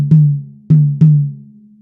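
A drum fill opens on the rack tom with three resonant hits. The second and third strikes come close together, and each one rings out and fades with a near, loud, booming decay.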